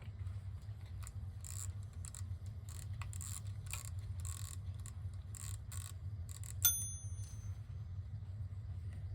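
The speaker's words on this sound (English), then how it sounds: "Chime there, the equivalent to, looks like 4 o'clock." A 1936 Ingraham Model SSD1 strike clock ticks quietly over a low background rumble, then sounds a single clear, ringing strike that fades away.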